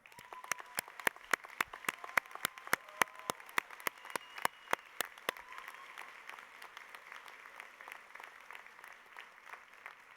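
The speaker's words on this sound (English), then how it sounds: "Let us now recognize the achievements of these students with our applause." At a university honors convocation, a large gathering applauds students in a big hall, with soft, continuous clapping under a run of sharp, evenly spaced loud claps that stops midway, leaving the quieter applause to trail on.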